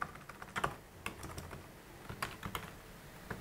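Code is being typed on a computer keyboard on a Raspberry Pi: scattered, fairly quiet key clicks in irregular bursts, with a few sharper taps standing out over a soft room background.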